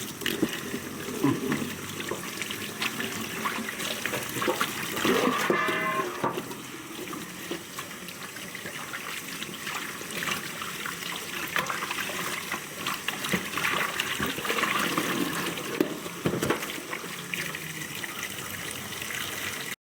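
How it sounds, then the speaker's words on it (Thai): Pork soft-bone ribs are washed under a running tap, a continuous loud splash and trickle of water with clattering and rinsing surges, and brief speech underneath. "มาล้างซี่โครงก่อนซี่โครงอ่อนกระดูกอ่อน"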